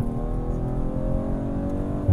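A 2020 Audi RS4 Avant pulls hard under full throttle, its engine droning loud and close with a steadily rising pitch throughout, heard from inside the car with no talk.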